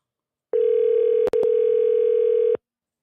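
An outgoing telephone call gives a steady electronic ringback tone lasting about two seconds, briefly broken by a click midway, loud and alone with no talking.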